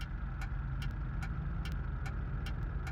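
A car passes in the BeamNG driving game, its engine a steady mid-pitched drone under a low idling rumble, with a faint repeated ticking running through it.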